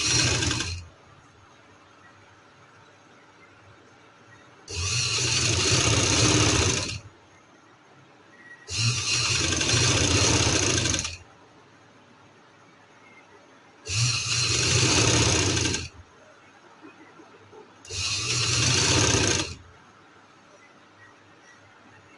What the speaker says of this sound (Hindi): ये एक पैर की सिलाई हम लगाएंगे।